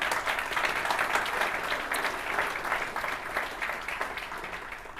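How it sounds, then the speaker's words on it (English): A room full of people at a university sports awards ceremony claps steadily for several seconds, a dense, even patter of applause that slowly tapers off. "A round of applause for those three gentlemen."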